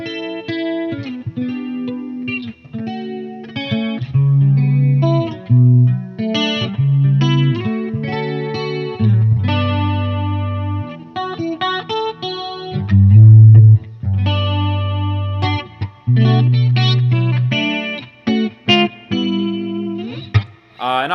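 An electric guitar plays chords through an Electro Harmonix Neo Clone chorus pedal into a Mesa amp, sounding loud and continuous with a shimmering, swirling chorus on the sustained chords over about twenty seconds.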